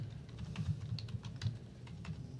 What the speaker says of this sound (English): So if I type in Dow Jones,